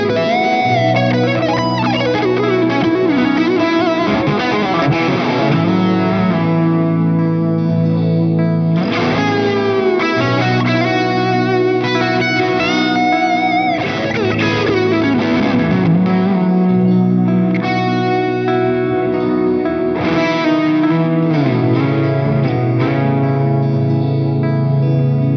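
Distorted electric guitar plays a bluesy rock phrase in the mixolydian mode with bends and sustained chords, loud and continuous with echo and chorus effects, no voices.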